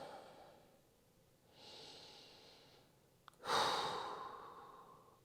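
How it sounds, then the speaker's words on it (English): Slow breaths in a yoga tabletop pose, with a soft inhale followed by a louder, airy exhale close to the microphone, alone in a quiet room. "just take a couple breaths here"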